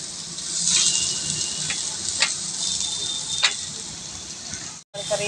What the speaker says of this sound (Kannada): ತರಕಾರಿ ಫ್ರೈ ಮಾಡ್ತದ